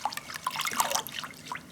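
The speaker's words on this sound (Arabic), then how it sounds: "بعد كده هزود كوباية مية وهقلب كل المكونات مع بعض" A cup of water is poured into a soy-sauce-based sweet and sour sauce for chicken with noodles, giving a close, splashy trickle with small drips and gurgles over about two seconds.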